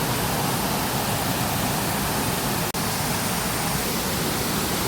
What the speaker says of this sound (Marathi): पाण्याचा खळखळाट